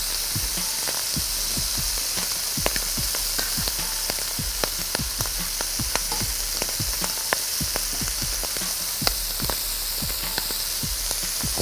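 Shrimp frying in butter sauce in a pan, a dense steady sizzle peppered with sharp crackles and pops throughout, close and continuous with no talk.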